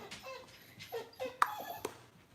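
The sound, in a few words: dog whining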